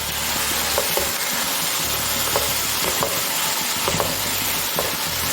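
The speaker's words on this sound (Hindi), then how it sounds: "अब हम इसमें शामिल करेंगे लौकी। अच्छी तरह मिक्स कर लेंगे।" Bottle gourd is stirred into curry masala in a pan, giving a steady close sizzle of frying with irregular scraping clicks from the spoon against the pan.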